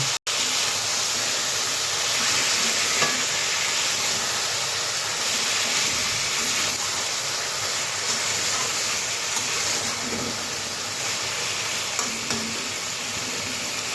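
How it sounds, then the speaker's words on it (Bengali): Tomato paste fries and sizzles in a pan while being stirred for a Bengali drumstick curry with lentil fritters, a steady, close hiss running the whole time under faint scraping, with no talk. "আবারও ভালোভাবে নেড়ে চেড়ে নেব।"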